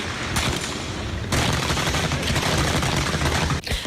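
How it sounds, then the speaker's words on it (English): Dense, rapid gunfire from an attack in Baton Rouge, Louisiana crackles continuously and loudly, bursts overlapping into a sustained barrage with no clear gaps, ending abruptly near the close. "A hail of gunfire this morning in Baton Rouge, Louisiana."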